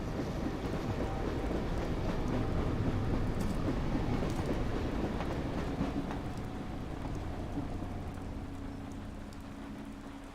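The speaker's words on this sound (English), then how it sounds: "The dog seems used to the train. Doesn't even bat an eyelid, despite the racket." A train rattles past in the video game Dreamfall: The Longest Journey, a dense, loud clatter of wheels and carriages that rolls on steadily for the whole stretch and eases slightly toward the end.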